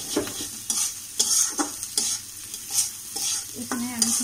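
Bitter gourd and fish belly being stir-fried in a pan, a spatula scraping and stirring in repeated strokes over a steady close sizzle, with no talking.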